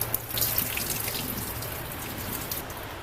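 Rice being rinsed under a running kitchen tap to wash off the starch, a steady close splash and patter of water with scattered droplet hits throughout, no talking.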